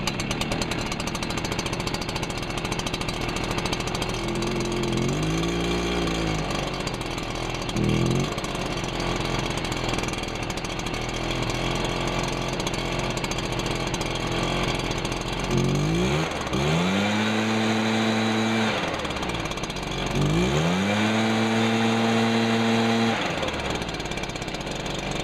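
Enrich Fogger 43 thermal fogger idling while warming up, a continuous buzzing pulse-jet drone with strong harmonics that rises and falls in pitch in several slow surges, heard up close with no talk.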